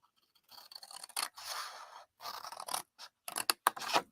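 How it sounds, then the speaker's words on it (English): Scissors snip through paper while a rectangle is cut out, a close, quiet series of crisp cuts and scraping strokes in short bursts separated by brief pauses. "We're going to cut this whole rectangle out."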